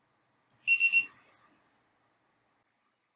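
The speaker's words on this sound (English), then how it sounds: "When a patient arrives, a beeper sound will play" Patient-arrival beeper alert in robotic care coordination software: a brief electronic beep in three quick pulses with light clicks around it, then a faint click later, quiet and alone in silence.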